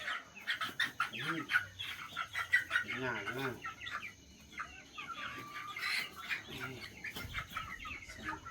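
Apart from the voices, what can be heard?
chickens clucking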